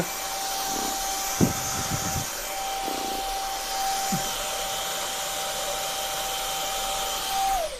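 Vacuum cleaner sucking up cobwebs from under a PC, a steady loud whine running throughout with a few brief low thumps as the nozzle knocks about, winding down at the end.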